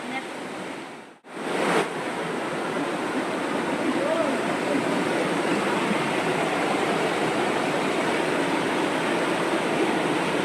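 Full-flowing Koraiyar waterfall in the Pachamalai hills roars loudly and steadily, briefly dropping out for a moment near the start before the heavy rushing wash returns and holds.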